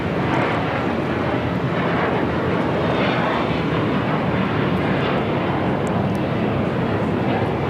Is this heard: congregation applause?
no